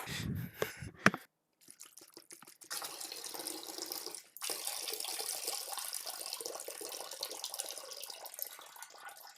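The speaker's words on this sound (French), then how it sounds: "On va les laver encore une fois, vous savez très bien. On va utiliser le robinet magique." Tap water runs steadily into a sink as freshly cut potatoes are rinsed, a broad continuous splashing stream after a few brief clatters and a short pause, with a momentary break partway through.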